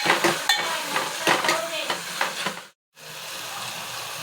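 Chopped onions frying in a pan for Mysore red lentil dal, a bright sizzle with repeated scrapes and taps of the spoon as they are stirred, then a brief gap of silence before a softer, steady sizzle resumes.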